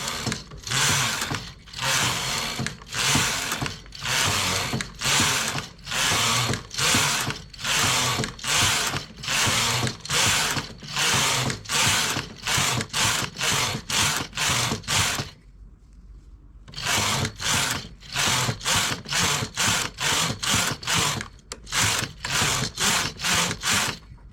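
A knitting machine carriage is pushed back and forth across the bed in steady, loud sweeping passes, each a rasping mechanical swish, with one brief pause midway before the rhythmic strokes resume while a sweater is knitted up to the armhole.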